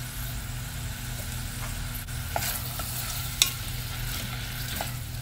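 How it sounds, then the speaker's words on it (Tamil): Onions sizzle with salt in a pan for mutton curry, a steady close frying hiss broken by a few light spoon clicks against the pan, with no talking. "அதுக்கப்புறம் கொஞ்சம் உப்பு சேர்த்து வதக்கிக்க போகிறேன்."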